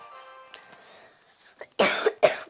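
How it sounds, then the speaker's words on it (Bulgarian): A couple of sharp, loud coughs burst out close by after a stretch of near quiet. "просто кашлям"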